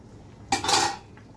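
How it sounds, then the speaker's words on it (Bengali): A single brief clatter of a metal lid or spoon against a pan while a spiced potol and yogurt dish is stirred and covered, close and fairly loud, then quiet. "একটু ভালো করে নাড়িয়ে এটাকে ঢাকা দিয়ে সেট হতে দেবো।"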